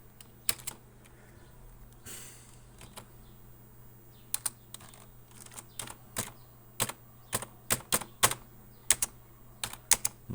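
Typing on a computer keyboard, with sharp clustered keystrokes in irregular bursts over a low steady hum in a quiet room.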